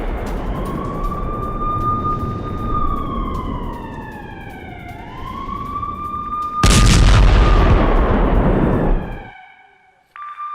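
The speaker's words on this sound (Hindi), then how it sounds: "बारूदी बौछार से कई धमाके हुए हैं" Air strike explosions on a Hamas command center in Jabalia, Gaza: wailing sirens sweep up and down, then a loud, sustained roaring blast swells for a few seconds before cutting off. No speech.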